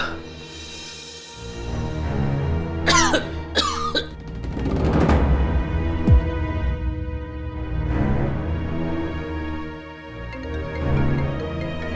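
Several coughs from a man sick with a high fever and nausea, set over a steady musical score, with a few sharp bursts standing out near the start before the sound blends into the ongoing music.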